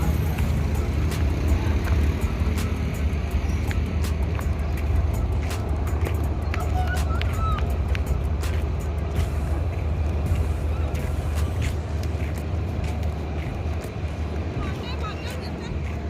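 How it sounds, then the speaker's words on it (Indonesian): A bus pulls away from a terminal bound for Jakarta, its engine a steady, loud low drone with traffic noise around it. A voice talks over it throughout, and the engine fades slightly near the end. "Jadi bus ini langsung berangkat menuju Jakarta."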